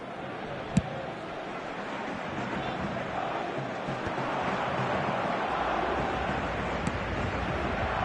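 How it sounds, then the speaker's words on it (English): A football video game crowd murmurs and swells in a broad, steady roar of applause and cheering, continuous throughout with a couple of sharp clicks, no clear commentary over it. "at least the crowd are appreciative of his efforts"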